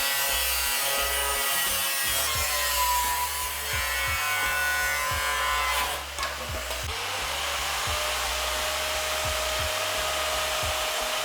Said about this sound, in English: cutting the sill into shape